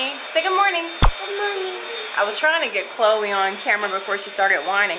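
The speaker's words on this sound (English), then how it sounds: "I know you guys can hear the vacuum in the background. My mom is vacuuming currently." A household vacuum cleaner hums steadily in the background of a home during a toddler's birthday morning, a constant drone running under close talk from a woman and a child.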